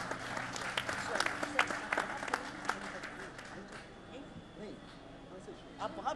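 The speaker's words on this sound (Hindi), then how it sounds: "तालियों के साथ स्वागत कीजिए।" Audience applause welcoming a poet at a veer ras kavi sammelan, a patriotic poetry recital: a steady wash of clapping from a crowd under a host's voice, swelling and thinning over several seconds.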